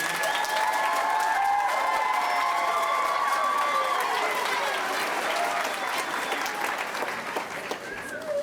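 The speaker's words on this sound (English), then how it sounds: "I'd like to give a round of applause to our accompanists tonight, Mr. Scott Mertens and Mr. Kowalski." Loud, sustained audience applause at a school winter choir concert for elementary and middle school singers, a dense clapping wash with a few cheers that fades slightly near the end.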